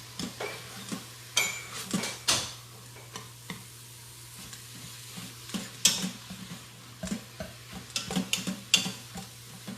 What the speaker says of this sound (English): We need to get a nice browning on the ground meat. Okay. So just keep stirring.